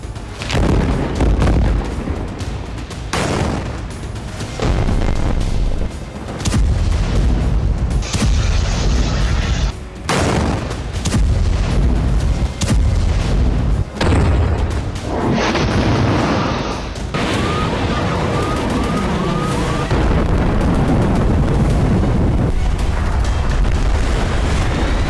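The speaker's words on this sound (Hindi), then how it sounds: "ऐसा भयंकर धमाका, कोने कोने को कपाने वाली आवाज" Heavy war explosions in Gaza boom one after another, loud and rumbling, with deep blasts and crackling debris filling the whole stretch.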